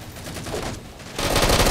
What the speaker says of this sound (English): You want to control your burst fire in the DMR.